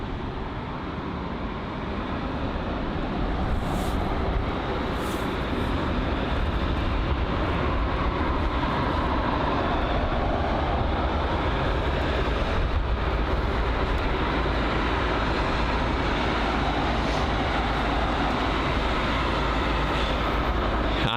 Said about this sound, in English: And so the Virgin Atlantic 787 there, that's taxiing right in front of us now.